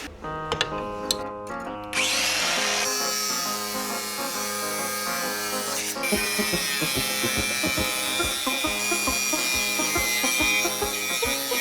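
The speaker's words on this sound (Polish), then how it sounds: "Teraz muszę uciąć w ogóle to mocowanie, żeby jeszcze to wyrównać szlifierką." An angle grinder cutting metal whines steadily at high speed after a few short bursts at the start, loud and close, with harsh grinding overtones throughout.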